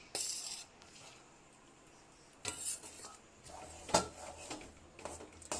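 A spoon stirs flour into thick dough in a pot, making quiet bursts of scraping and clinking against the metal with short pauses between strokes.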